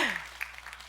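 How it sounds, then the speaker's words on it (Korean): Audience applause at a Korean lecture on youth and hope. It is brief and faint, with scattered claps after a voice trails off. "박수 한번 쳐주세요."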